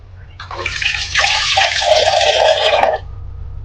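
Water pours steadily into a pot for about two seconds, a close, splashing rush that rises in pitch slightly as the vessel fills, with low background hum.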